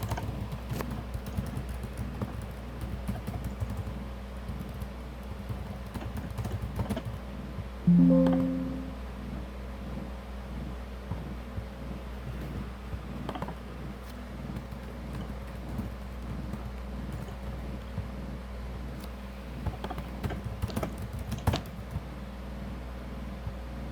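Sparse clicks of typing on a computer keyboard tap out irregularly over a steady low hum, with one louder thump partway through and no speech.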